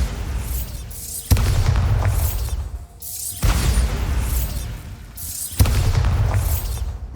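Bombarda spell explosions in the video game Hogwarts Legacy, a series of four loud booming blasts, each a sudden heavy thump followed by a rumbling, crackling roar that fades before the next.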